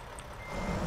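A truck in American Truck Simulator gives a short, faint reversing beep over a low engine rumble that grows slightly louder.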